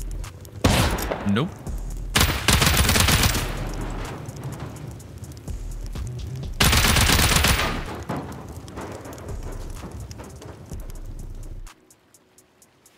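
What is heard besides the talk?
shotgun trap firing in Rust video game raid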